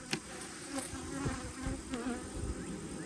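Swarm of honeybees buzzing steadily and close during a colony removal from an old church building high off the ground, a dense continuous hum with individual bees droning past the listener.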